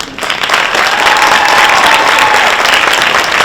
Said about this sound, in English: Let's also give a round of applause to your teachers, guidance counselors, janitors, support staff.